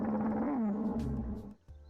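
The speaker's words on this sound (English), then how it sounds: "Here's the roar." An Allosaurus roar from the game Dinosaur Simulator, a loud, deep, rumbling bellow with a rising-and-falling pitch that lasts about a second and a half before cutting off.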